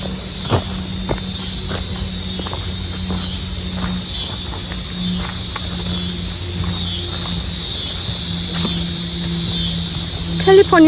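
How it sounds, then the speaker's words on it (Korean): Cicadas sing along a path near Chicago, Illinois, in a loud continuous high-pitched drone with faint intermittent clicks beneath, steady throughout. "이 길에 들어오면 매미 소리가 많이 나거든요."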